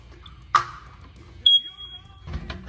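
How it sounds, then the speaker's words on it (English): A smoke detector being replaced on a ceiling gives short, sharp beeps when its test button is held: one chirp, then a longer high tone about a second later, followed by a soft bump. "press and hold the test button to squeeze all the power out of the smoke detector."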